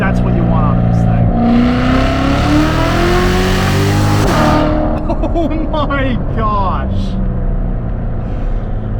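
Chevrolet C7 Corvette Z06 accelerating hard down a straight road, its loud engine note rising steadily through the revs with a shift partway, close and dominant from inside the car while a voice exclaims briefly.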